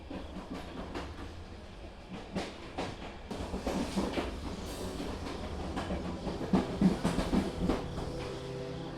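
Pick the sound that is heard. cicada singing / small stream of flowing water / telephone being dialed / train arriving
train arriving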